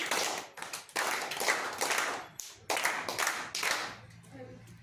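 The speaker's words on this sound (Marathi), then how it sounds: "चला टाळ्या वाजवा जरा मोनिकासाठी" Group of schoolchildren clapping together for a classmate in a fourth-grade maths class, a loud, close burst of hand claps that stops, starts again and then fades out.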